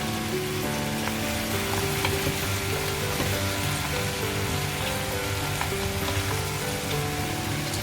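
Vegetables, including tomatoes, and cashews cook in a pan: a dense, continuous crackling sizzle with scattered pops, over a steady low tonal hum.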